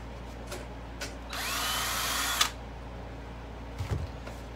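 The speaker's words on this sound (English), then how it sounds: "He's going to drill a hole." A power drill bores a hole in a can canister on a block, a single whining burst of about a second that rises in pitch, with faint knocks before and after.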